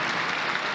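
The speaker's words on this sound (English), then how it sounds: "That's an applause line." A large audience applauds at the Sony E3 2015 press conference, a dense, steady wash of clapping that fills the whole brief moment at close, even loudness.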